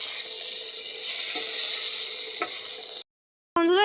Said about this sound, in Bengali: এখন এটাকে আরেকবার এর সাথে ভাজিয়ে নেব।